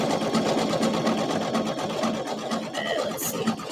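A sewing machine runs close and loud, stitching stripes on an Etsy order with a continuous rapid needle chatter.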